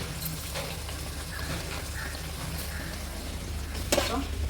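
Masala with curry leaves, green chillies and coriander sautéing in hot oil for a fish curry, giving a steady, close sizzle and crackle that runs through the whole stretch with a faint clink near the end.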